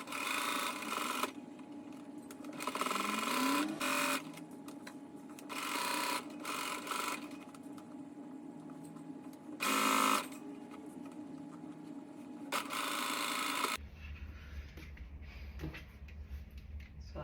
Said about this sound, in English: So I'll go ahead and sew it with half an inch seam allowance.